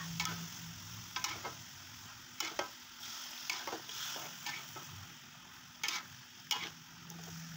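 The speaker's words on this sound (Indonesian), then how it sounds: "setelah mendidih kita masukkan nangka yang sudah kita rebus, lalu ini kita aduk hingga tercampur rata" A spoon stirs boiled jackfruit into a simmering curry in a pot, with soft scraping strokes and intermittent clinks against the sides over a steady low bubbling, close by with no talk.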